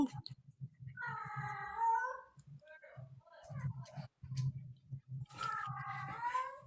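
A cat purrs with a low, rumbling pulse close up, broken by a couple of drawn-out meows.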